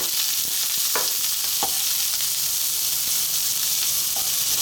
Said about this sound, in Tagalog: Mag-a-add tayo ng onion. Again, haluin lang natin.